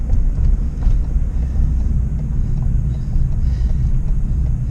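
An unloaded cargo van driving on a city street, its engine and road noise a steady low rumble heard from inside the cab, with no speech.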